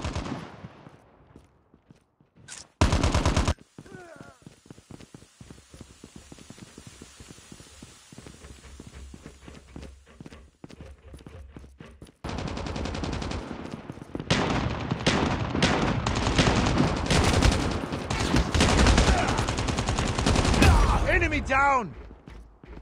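Gunfire in Call of Duty comes as rapid automatic bursts and single shots, sparse at first and then dense and loud toward the end, with game voices in between.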